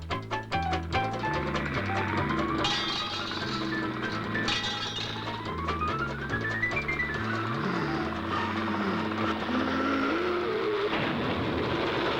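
An old car rolls steadily along, its engine chugging in a loose rhythm beneath clinking and rattling, with a whistle-like rising tone partway through.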